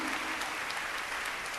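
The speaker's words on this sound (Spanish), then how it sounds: "Un aplauso para Jesús, Él sabe lo que hace." An audience at a Latino church gathering in Los Angeles claps in steady, dense applause, a continuous wash of many hands throughout.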